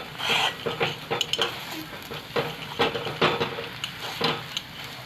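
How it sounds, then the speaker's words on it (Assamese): Potatoes frying with spices in a pan for aloo chop, a continuous sizzle broken by repeated scraping clinks of a utensil stirring against the metal, close and alone. "মছলাখিনি লগত আলুখিনি ভাজি লওঁ যাতে মছলাখিনি ভালদৰে মিহলি হৈ যায়"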